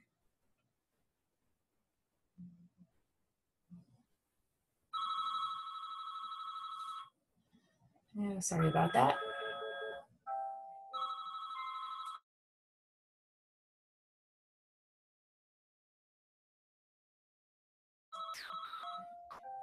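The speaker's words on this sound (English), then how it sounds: "My phone will stop in a moment." A mobile phone ringtone rings in bursts of clear tonal melody, about two seconds each with pauses between, at moderate loudness indoors, and a brief spoken apology comes between the rings.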